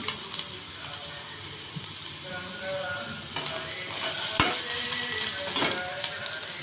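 Spices and fresh ginger sizzle steadily in a hot pan while being stirred, a continuous close frying hiss with occasional scrapes and clinks of the spoon, no voices over it.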